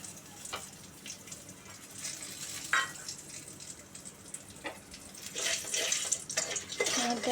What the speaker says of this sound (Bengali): দুটো এলাচ লবঙ্গ দারচিনি আর কয়েকটা গোলমরিচ ফোড়ন দিলাম